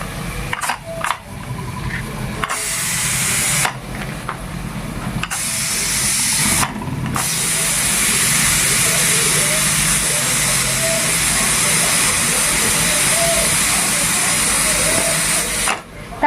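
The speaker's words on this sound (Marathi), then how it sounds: "मी तेलामध्ये पहिलं कांदा टाकून देते" Onion dropped into hot oil for pav bhaji, giving a loud, steady broadband sizzle that runs continuously through, with brief dips early on and a voice speaking faintly underneath.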